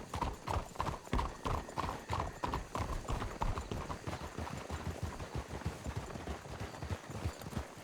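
Horses clip-clopping in a WildRP roleplay video game, a steady run of hoofbeats that is close and fairly busy, with several animals moving together and no talk over it.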